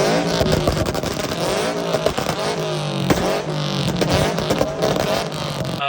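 A Toyota 86-type sports car with unequal length headers and a catback exhaust revs loud and raspy up close. The engine rises and falls repeatedly with harmonic sweeps and a brief dip midway.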